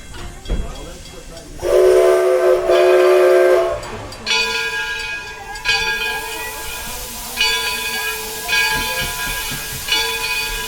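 Loud steam hissing and whistle-like tones from a nearby steam locomotive, Edison locomotive No. 1, with bursts of steam repeating over a rumbling background.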